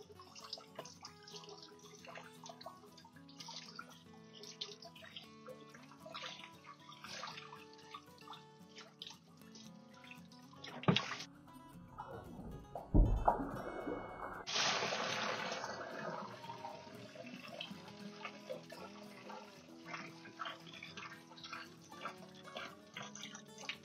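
Water drains from a whole-home water filter housing with a 10 by 4.5 inch cartridge into a bucket, a bright splashing gush in the middle of the clip over a steady background hum, with drips around it.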